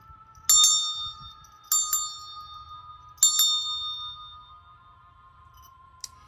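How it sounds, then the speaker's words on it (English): A small bell is rung three times at steady intervals, each bright ring decaying slowly over a faint low hum, with one light tap near the end. "I'm gonna ring the bell so we can get some new energy in"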